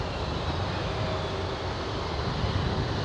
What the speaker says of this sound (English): We have Rolls-Royce Trent 700 engines, number 2 for takeoff.